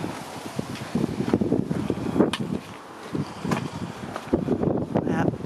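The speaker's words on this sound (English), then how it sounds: "it's just very windy. It's horrible." Strong wind outdoors on a grey day, buffeting the microphone in uneven gusts with rustling and rattling, fairly loud and continuous.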